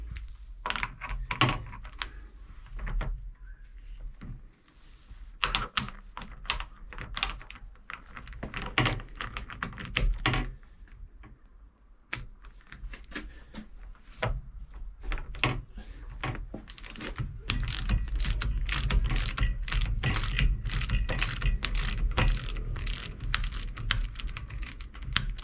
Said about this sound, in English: So let me just get this nut off again.